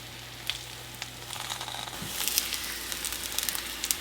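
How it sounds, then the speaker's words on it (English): A tortilla frying in hot oil in a pan gives a steady close sizzle that swells and grows busier about halfway through, with scattered crackles and spits and no talking. "putting a little bit of oil in your pan, heating up, and putting your tortilla in"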